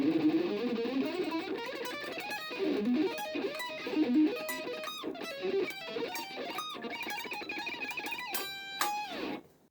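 Fast electric guitar shred étude played with alternate and sweep picking, dense runs of rapid notes through an effects unit with light distortion, continuous and close, ending with a few sustained notes and a quick flourish.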